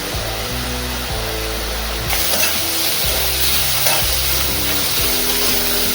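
Spices sauté in hot oil for a Maharashtrian brinjal-potato curry, a loud steady sizzle with stirring scrapes and small bursts of crackle, close up and continuous, with no voices.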